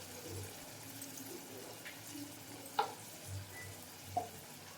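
Frying and stirring of kadai paneer with turmeric, salt and chilli powder, a faint, soft sizzle under a few brief scraping clinks of a spoon against the pan.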